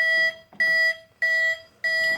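A toy John Deere skid steer sounds its horn as a series of four electronic beeps in a regular on-off rhythm, clear and close with no talking.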